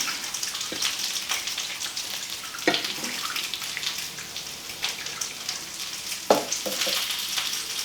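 Beef broth is poured around the sides of a meatloaf in a crock pot, a continuous liquid splashing and trickling with a few sharper clinks and knocks along the way.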